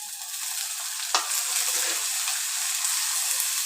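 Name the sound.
shallots sautéing in oil for Kerala fish curry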